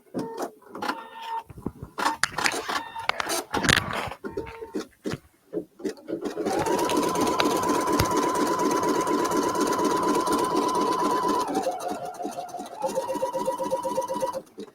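A computerized embroidery sewing machine stitches out a design with a steady, fast mechanical chatter that runs continuously for several seconds, its pitch shifting slightly partway through, after some brief clicks and button beeps at the start.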